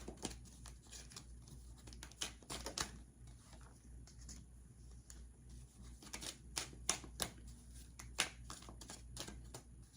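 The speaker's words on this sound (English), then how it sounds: "So as I'm shuffling these cards, make your wish." Tarot cards are shuffled close up in a quiet room, a run of soft riffling flicks and sharp snaps coming in irregular bursts, with no talk.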